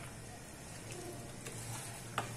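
Chicken karahi sizzling and frying in a pan while being stirred, a steady close hiss with a few brief scraping clinks of a spoon against the pan, no talking.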